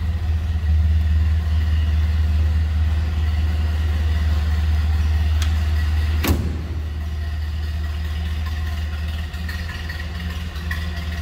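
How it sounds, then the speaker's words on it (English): A 1931 Ford Model A five-window coupe's engine idles with a steady, close, low rumble, broken by one sharp click or thump partway through before the idle settles slightly quieter. "Gotta love that. Model A sound."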